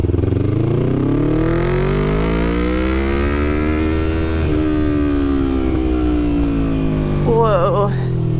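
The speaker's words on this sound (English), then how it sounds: "did a full exhaust mod on the bike, so it got louder" A loud motorcycle with a full modified exhaust, throaty and rumbling, revving up and easing off in a long smooth sweep, heard close throughout.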